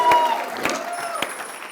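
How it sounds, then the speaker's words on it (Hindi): Audience applause at a poetry sammelan with a live interview on stage, scattered claps with a few sharper bursts, moderately loud and fairly near, with a spoken voice running over it. "तालियां अब तक बज रही हैं।"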